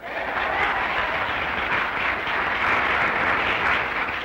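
An audience at a civil rights rally claps together in a dense, sustained wash of applause that holds steady throughout without a break.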